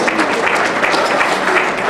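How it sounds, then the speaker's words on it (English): Guests at an awards dinner clap together, a dense, steady wash of hand claps heard close and loud throughout. "Clap along"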